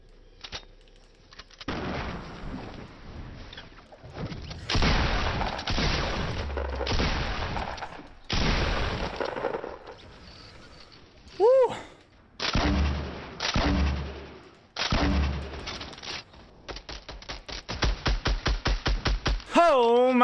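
Rainbow pump shotgun blasts in Fortnite Battle Royale, a series of loud, separate booming shots with short gaps, followed by a rapid stutter of fire, while a voice talks and exclaims between them.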